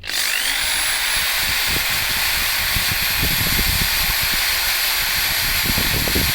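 A power drill whirs loudly and continuously at close range, a steady high motor whine with rattling underneath, no talking.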